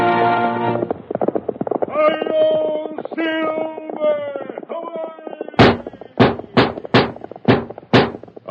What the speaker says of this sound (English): A fiery horse with the speed of light, a cloud of dust, and a hearty hi-yo Silver